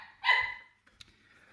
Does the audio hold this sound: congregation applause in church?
no